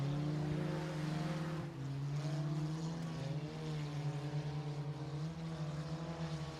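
Race cars roar around Sabine Speedway on the final lap of the Stinger feature, forming a loud, continuous engine drone whose pitch rises and dips as the cars power through the straightaway and turns.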